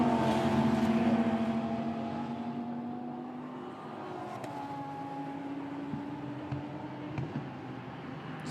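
Lamborghini Super Trofeo race car running on a wet track at Spa, its engine a steady, droning whine with rising and falling pitch sweeps, loud and continuous throughout, with no talk.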